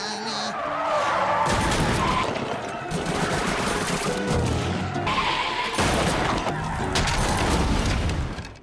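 A cartoon boat from SpongeBob smashes backwards through a school, giving a continuous loud roar of crashing, crunching debris and skidding, with repeated heavy impact bursts and no pause.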